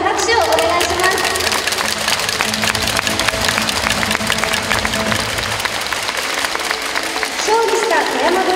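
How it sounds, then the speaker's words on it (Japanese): Spectators at a high school handball tournament game give a sustained round of dense, steady applause that fills the space, mixed with crowd noise and some talk underneath. "今一度大きな拍手をお願いします。"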